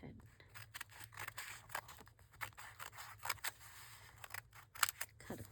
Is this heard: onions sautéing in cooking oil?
no